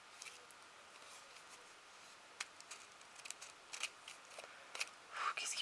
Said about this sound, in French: Je vais essayer de le couper un petit peu.